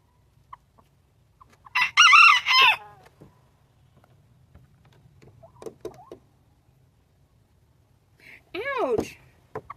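Hens at a chicken coop cluck and call in brief bursts, a couple of louder squawks standing out over quiet pecking and soft shuffling noises.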